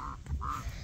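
Two short, nasal honks from a female goose sound close up, one right after the other, over faint background noise.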